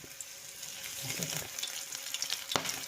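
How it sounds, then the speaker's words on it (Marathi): Rava-coated prawns dropped into hot oil in a pan, a continuous crackling sizzle with spattering pops, a sharp louder crackle burst near the end; close and fairly quiet, no talking. "आता ते फ्राय करून घेऊ. फ्राय तेल घातलेलं आहे. आता मी ते भाजायला घालते."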